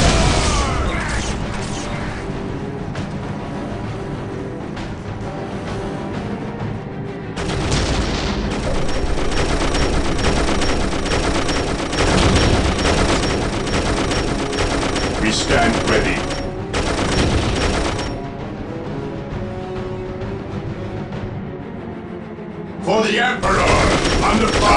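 Battle gunfire in Dawn of War, a Warhammer 40,000 strategy game: sustained bursts of massed fire and mechanical clatter that swell and cut off in loud blocks, with brief unit voice lines in between.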